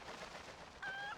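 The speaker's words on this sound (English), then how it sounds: "I think I need the chicken again." A chicken in the video game The Legend of Zelda: Twilight Princess gives a short, nasal squawk, faint under a low steady background hiss, with no talk.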